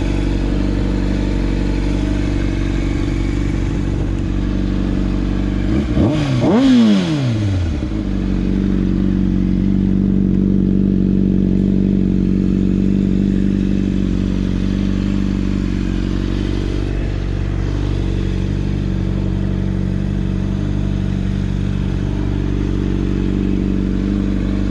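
A Honda CBR600RR sport motorcycle with about 22,990 miles idles steadily and close by, a brief clattering rise near the start and otherwise an even, continuous engine hum throughout.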